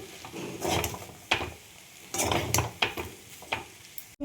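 Chow mein frying in butter in a pan over low heat, with a soft steady sizzle broken by sharp spatters and the clatter of stirring against the pan at irregular intervals.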